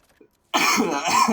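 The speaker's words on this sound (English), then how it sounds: "Sorry if a little bit of coughing." A short burst of harsh, rapid coughing, loud and close, following a brief faint sound and a moment of quiet.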